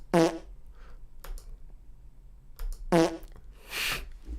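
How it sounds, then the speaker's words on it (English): Two loud fart sound effects play on a livestream, each a short raspy burst, separated by a couple of seconds of near quiet with faint clicking between. "He's farting. That's his poop sound."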